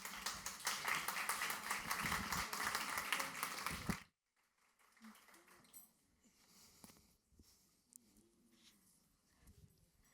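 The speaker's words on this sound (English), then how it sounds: "Big round of applause, please." Audience applause at a SXSW London panel on frontier tech companies: dense, steady clapping for about four seconds, then a sudden stop into a quiet room with faint shuffling.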